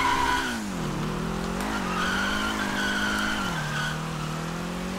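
A car drifting in GTA V, its tires skidding in one long continuous squeal that wavers in pitch, loud and close, layered over the steady drone of the engine with no talking.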